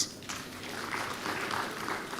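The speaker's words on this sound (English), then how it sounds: "Let's give a big round of applause." Faint, distant applause rising from an audience at a university higher-education event in Chennai, soft and steady for a couple of seconds.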